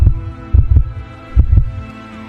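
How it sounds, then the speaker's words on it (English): A loud, close heartbeat pounds in a slow double-thump rhythm, two paired beats spaced about a second apart, deep and throbbing, used as a horror sound effect. "I could feel my heartbeat in my throat."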